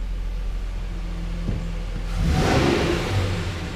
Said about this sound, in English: It's got that nice sounding V6 in it.